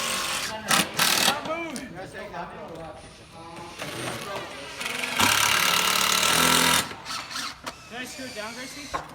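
People talk over intermittent mechanical whirring, with a sustained burst of power-drill buzzing as screws are driven into a wooden picnic table.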